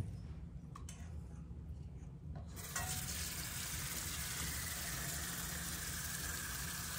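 Tap water pouring into a pot of dry beans, a steady hissing rush that starts abruptly after a few quiet seconds and continues evenly.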